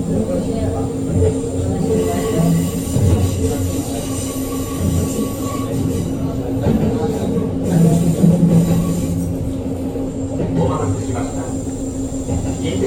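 A Kintetsu Ise-Shima Liner limited express train runs steadily with a constant rumble of wheels and motors, punctuated by faint squeals, while a recorded announcement voice talks over it.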